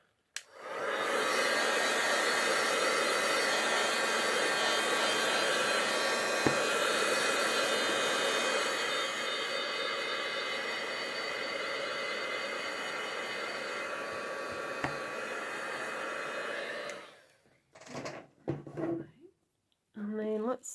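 A hair dryer blows loud and steady for about seventeen seconds to dry a Gelli plate printed card, then cuts off, followed by brief handling clatter.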